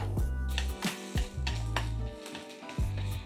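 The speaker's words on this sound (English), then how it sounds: "First, we're going to fry all of the veggie." Chopped vegetables fry in a hot pan, a steady sizzle punctuated by a few clanks and scrapes of stirring against the metal.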